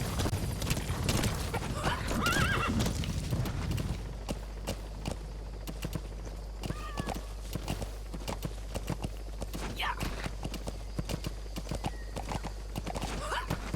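Hooves clip-clop steadily throughout, with a horse whinnying near the start amid louder commotion, then lighter repeated hoofbeats over a low steady hum, from the video game Metal Gear Solid V.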